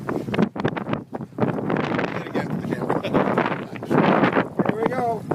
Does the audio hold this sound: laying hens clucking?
no